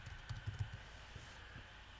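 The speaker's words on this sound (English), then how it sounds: "And we can start typing." Quiet keystrokes on a computer keyboard come in a short, uneven burst at the start, then thin out into a few isolated taps over a faint steady hum, with nobody talking.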